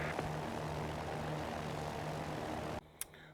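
A Cirrus SR20 in X-Plane 11 drones steadily at full takeoff power, a dense propeller and engine roar that cuts off abruptly near the end, followed by a short click.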